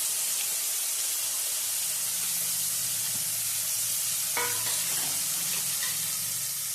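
Onion paste sizzles in hot oil with green chillies and ginger for a Gujarati whole-potato curry, a loud, steady hiss up close with a few scraping stirs midway and no voices.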